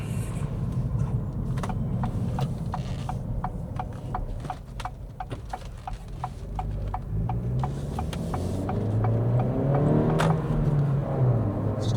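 Acura Integra engine heard from inside the cabin while driving, a steady low drone with rising tonal sweeps near the end, joined by a regular train of sharp ticking clicks throughout.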